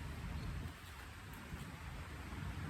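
Steady rain falls as a faint, continuous wash of hiss and patter with no breaks and no voices.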